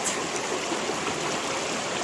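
Cold water streaming along a trail creek, a steady rushing flow that fills the whole moment, close and even, with no voices.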